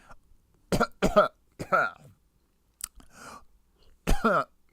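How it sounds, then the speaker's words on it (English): Several harsh, close coughs and throat-clearing bursts come in quick clusters with short silent gaps between them, loud and dry. "Why am I coughing?"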